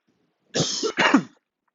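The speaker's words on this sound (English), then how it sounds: "a little bit of a cough there." One short, close cough in two quick bursts against silence.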